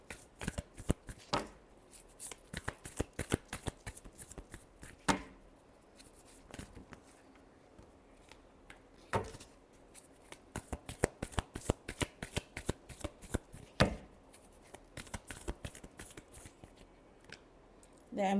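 Tarot deck shuffled by hand during a weekly horoscope reading: a long run of rapid, crisp card snaps and riffles in clustered bursts, close and fairly quiet, with no voices.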